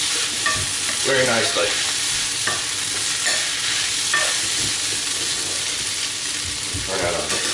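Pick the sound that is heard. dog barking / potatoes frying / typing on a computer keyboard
potatoes frying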